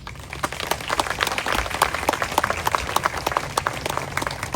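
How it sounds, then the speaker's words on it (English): Audience at a Porterville Flag Day ceremony applauding, with steady dense clapping that holds at moderate loudness throughout and no talk over it. "Let's give her a big round of applause."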